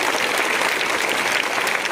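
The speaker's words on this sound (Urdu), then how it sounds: "زوردار تالیاں" A school audience at an Urdu high school gives loud, dense applause to honour a student's NEET exam success, a continuous roar of clapping with no break.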